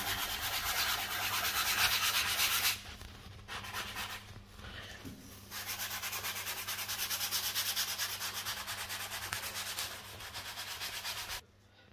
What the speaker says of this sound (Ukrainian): беремо шліфувальний брусочок